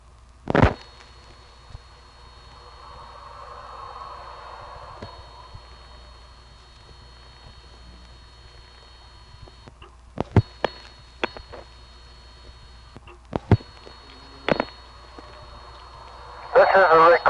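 Steady high telephone trunk carrier tones from a 1976 step-by-step exchange hum over a quiet line, broken by clicks and pops, with a burst of noise near the end.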